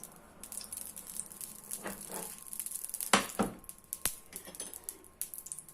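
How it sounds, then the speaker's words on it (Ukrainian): Oil crackles and sizzles in a hot pan as meat fritters fry in ghee, with bursts of spitting and a few sharp clicks, close and fairly quiet. "І смажимо."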